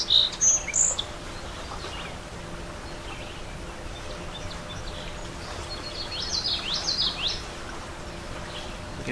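Bright chirping bird calls ring out near the start, then a looser run of twittering notes later, over a steady hum of insects and light outdoor rustle, at Bald Eagle State Park, Pennsylvania, on a cloudy day.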